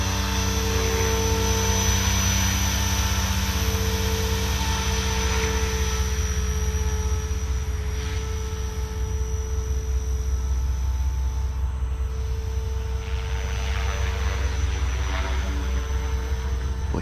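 A Blade 500 3D RC helicopter flying on its first flight, a loud continuous whine of rotor and motor with a steady drone holding throughout, close by and uninterrupted.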